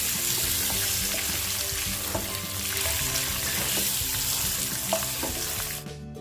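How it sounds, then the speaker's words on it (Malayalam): Boiled eggs frying in hot oil with turmeric powder for egg biryani, a loud, continuous close sizzle with scattered pops and crackles that cuts off abruptly at the end. "മഞ്ഞൾപ്പൊടി ഒന്ന് മൂത്ത് വരുന്ന സമയത്ത് നമ്മൾക്ക് അതിലോട്ട് പുഴുങ്ങി വെച്ചിട്ടുള്ള മുട്ട ചേർത്ത് കൊടുക്കാം."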